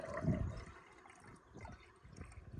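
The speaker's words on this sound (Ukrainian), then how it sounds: "І наливаємо 50 грам нашого газоліна." Gasoline poured into diesel fuel, a faint, close liquid trickle and gurgle with a brief stronger splash at the start, then softer intermittent pouring and dribbling.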